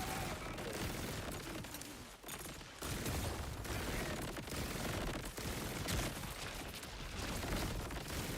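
In the Borderlands video game, a grenade goes off amid a dense, continuous roar of gunfire and blasts, loud and unbroken, with a brief dip partway through before the barrage resumes.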